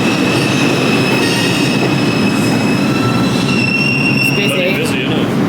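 A New York City subway train at Grand Central, 42nd Street, roars loudly and steadily, with high metallic wheel squeals running over the constant rumble.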